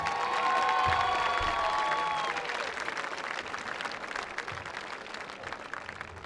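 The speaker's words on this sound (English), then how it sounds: "please give one more round of applause for our 2025 Blair football senior class." Crowd at a high school football senior night applauds and cheers for the senior class, a broad stadium wash of clapping and shouts, with a tonal sound over the crowd early before the applause carries on alone.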